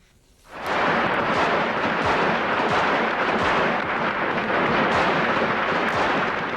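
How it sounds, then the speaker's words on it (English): Dense, continuous crackle of rapid gunfire and distant booms during the Romanian Revolution fighting after Christmas Day, loud and sustained after a brief quiet start, with no voices. "Gunfire erupted again in Romania following Christmas Day celebrations."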